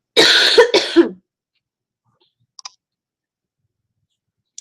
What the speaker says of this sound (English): I don't want to have this coughing business.